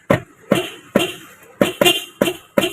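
Horn of a 2011 Toyota Vios 1.5E sedan, a used car, beeped seven times in short irregular bursts close by, each blast sharp and loud with brief gaps between, sounding somewhat cracked.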